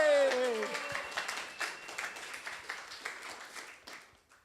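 Audience applause for a team at a coding bootcamp demo day in Barcelona, a fairly faint spread of clapping that starts under a brief vocal shout, holds steady and then tapers off.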